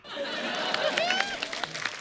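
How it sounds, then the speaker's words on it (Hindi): A crowd claps steadily for about two seconds, with murmured chatter and a few whistle-like tones mixed into the applause. "तालियां।"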